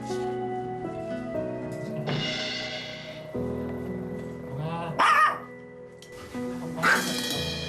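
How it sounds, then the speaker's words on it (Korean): A Maltese dog barks aggressively in bursts of sharp yaps near the end, over a continuous bed of background music. "하지만 그럴 때마다 짖어대고 공격적인 몽이 때문에 가족들은 정말 걱정입니다."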